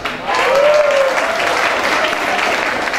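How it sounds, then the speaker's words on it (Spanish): Steady applause from an audience at an album launch, many hands clapping together in a dense, even wash that swells in after a brief quiet start and holds to the end. "Muchas gracias y gran aplauso a todos ellos."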